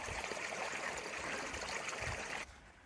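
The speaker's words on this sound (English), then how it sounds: "running water." Rain-fed stream running through the Arizona desert, a steady close bright rushing and trickling of water that drops off abruptly near the end.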